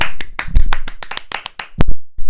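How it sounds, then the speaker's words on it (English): Podcast hosts clapping in a round of applause, a quick burst of close, loud hand claps in an uneven rhythm, ending with a couple of isolated claps. "Are we going to give him a round of applause?"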